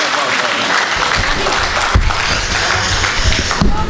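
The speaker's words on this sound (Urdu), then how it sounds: "تالیوں کی گونج میں استقبال کیجئے ندیم فروخ صاحب" An audience at a Kuwait Urdu mushaira applauds to welcome a poet, with loud, dense clapping filling the whole stretch and a voice speaking faintly underneath.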